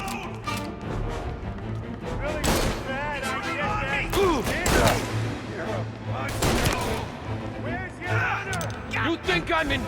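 Gunfire rattles through a shootout in the video game Mafia Definitive Edition, with repeated loud bursts and sharp shots close by, under shouting voices.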